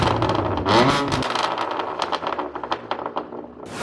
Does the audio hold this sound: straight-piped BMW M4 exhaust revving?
yes